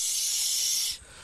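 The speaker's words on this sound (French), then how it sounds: "elles ont des poils très très épais, qu'elles frottent les uns contre les autres. Ça fait un bruit de friture" A spider rubs the very thick hairs around its mouth together, giving a sharp, steady hiss like frying as a warning, close and clear for nearly a second before cutting off.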